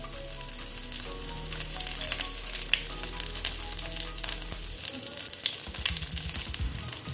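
Black cumin seeds and chopped garlic frying in hot oil, a bright, continuous sizzle close up with crackling pops, quieting briefly near the end.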